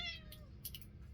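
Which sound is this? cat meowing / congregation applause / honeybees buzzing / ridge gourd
cat meowing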